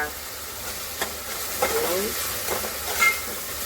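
Onion and tomato sautéing in oil for a sprouted moong and matki misal, a low sizzle under a few scrapes and stirring knocks of a spoon in the pan, close and fairly loud.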